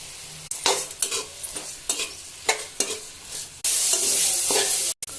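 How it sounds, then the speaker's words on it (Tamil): Chopped carrots, beans, tomato and mint sauté in a pan for rava khichdi, a steady sizzle broken by repeated scraping stirs of a spoon, then a louder, brighter hiss near the end. "காய் நல்லா வதங்கிச்சு"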